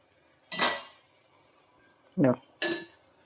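A metal spatula scrapes and knocks against a pan of mushroom fry in three short bursts, one early and two close together near the end, with quiet gaps between.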